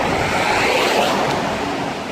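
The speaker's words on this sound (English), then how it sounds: "There's so many lorries today." Heavy lorries pass on a busy, noisy road, a loud continuous roar of traffic rushing close by, with no voices.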